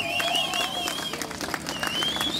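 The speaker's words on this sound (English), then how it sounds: "Folks, give them a round of applause." A rally crowd gathered outdoors at Martin Place applauds musicians, with dense clapping and shrill whistles rising over a steady roar.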